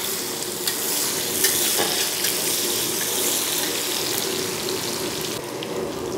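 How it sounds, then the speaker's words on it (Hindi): Onions fry in a pan with a steady, close sizzle and light crackle, stirring scrapes breaking through now and then, no talking. "अब प्याज को भूनेंगे"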